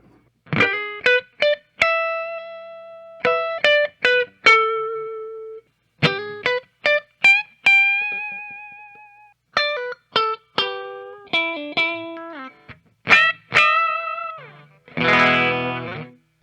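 A 2021 Fender Noventa Jazzmaster with three P90 pickups plays short clean lead licks with clear sustained notes, bends and vibrato, separated by brief pauses, ending in a quick flurry.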